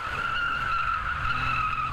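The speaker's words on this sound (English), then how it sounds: "The 600-metre dash through the car park was a great way to see and hear the cars being driven to the extreme." A rally car skids hard through a 600-metre car park dash at a rally event, giving a sustained, loud tyre squeal over the engine's low roar.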